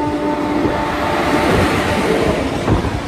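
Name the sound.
local train passing on railway tracks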